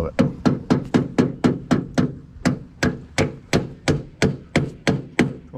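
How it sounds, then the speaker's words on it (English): A hammer drives a nail during repair work on a mobile home, about fifteen loud, evenly spaced whacks landing close by in a steady rhythm with a short pause midway. "Come up here and nail my end if you don't mind."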